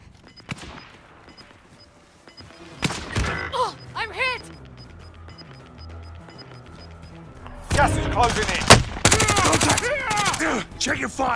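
Rapid volleys of gunfire crack out during a team shooting match at Gora Dam, a quiet stretch followed by loud, dense bursts in the second half, with shouted commands around them.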